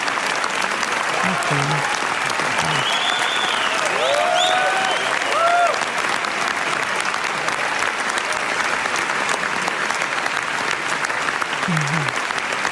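Steady applause from a large crowd honors Iranian filmmaker Panahi, a dense, continuous clapping texture throughout, with faint tonal sounds and brief voices surfacing over it.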